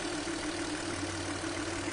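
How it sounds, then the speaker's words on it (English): A car engine idles steadily during a spark plug ignition test, giving a constant close drone with a low hum and no voices. "Let me turn off the engine"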